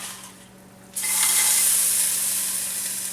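Rinsed chiles dropped into a hot pan for camarones a la diabla burst into a sudden loud sizzle after a quiet moment, then keep up a strong, steady hissing fry with no voices.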